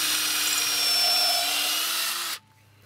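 A cordless impact driver sinks a large lag bolt into a pre-drilled raised garden bed board, with a steady high-pitched whirring hammer that runs for about two seconds and then stops abruptly.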